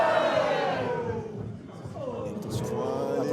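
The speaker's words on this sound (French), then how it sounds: "est copieusement huée" A wrestling crowd jeers and boos a female wrestler during a women's championship match, a loud, sustained mass of voices with rising shouts and whistles.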